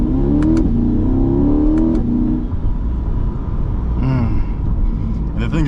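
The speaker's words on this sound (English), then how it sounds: "So we're gonna do a quick, decent acceleration." A new C8 Corvette accelerates hard from close range, its engine revving up in a rising roar that climbs through the gears, then a pause and a fresh surge near the end.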